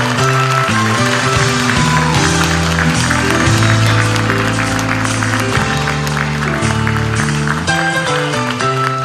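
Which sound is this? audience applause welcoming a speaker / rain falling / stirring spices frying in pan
audience applause welcoming a speaker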